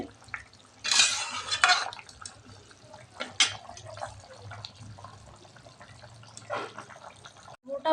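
Batter for chitano pitha being mixed in a bowl: a few clinks and scrapes of a utensil against the bowl, loudest near the start, with quieter stirring and a low background hum after.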